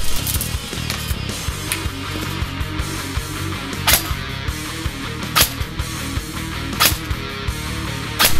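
An AEX Warfighter DMR airsoft gun fires 0.2 gram BBs on a LiPo battery, giving sharp, distinct shots at irregular intervals over a steady loud background hum, close to the microphone.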